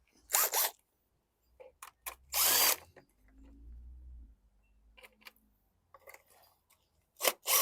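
A wrench working the recoil nut on a rusted 2020 Ryobi pressure washer, a few short, sharp metallic bursts separated by quiet gaps, close and fairly loud, with a low rumble in between.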